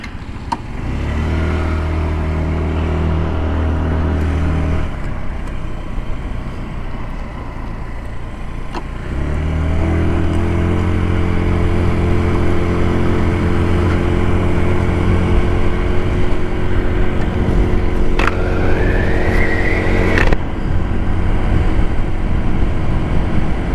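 A small motor scooter pulls away from a fuel pump and rides on, its engine droning steadily and close. The pitch changes as it eases off and picks up speed again, with a brief rising rev near the end.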